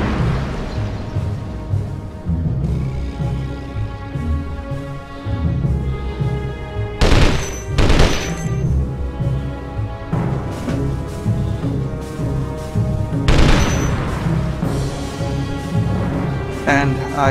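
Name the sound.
gunfire and explosions in the video game Desert Storm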